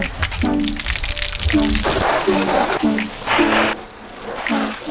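Water splashes and gushes steadily against a supercar, like a hose spraying it, with a few sharp spurts and bursts over a continuous wet hiss.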